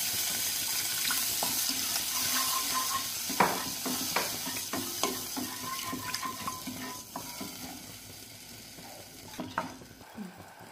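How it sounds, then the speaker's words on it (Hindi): Water is poured into a pan of kuttu kadhi cooking on the stove, giving a sustained splashing hiss with a few louder splats and clinks throughout, no voices. "तब मैं इसमें थोड़ा सा पानी डालूंगी।"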